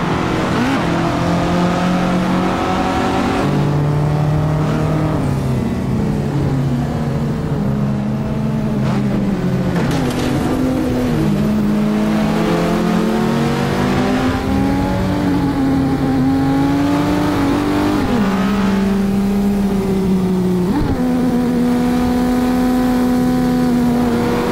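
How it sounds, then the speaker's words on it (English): A 1970 Dodge Charger RT in the Assetto Corsa racing game drives with a steady, loud engine drone, its pitch climbing and falling through gear changes and revs for the whole stretch, with no one talking. "The 1970 Dodge Charger RT is Dom's favoured vehicle, appearing in what seems to be nearly every Fast and Furious film."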